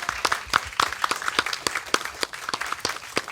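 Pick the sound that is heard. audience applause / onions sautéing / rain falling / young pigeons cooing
audience applause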